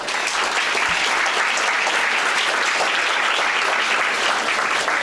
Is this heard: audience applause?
yes